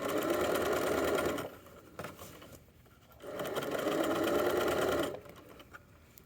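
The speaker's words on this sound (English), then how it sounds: "And then I'm going to sew all the way around and back stitch" Sewing machine stitching around a pajama pants waistband with a backstitch, running in two steady bursts of rapid mechanical whirring separated by a short pause, close and fairly loud.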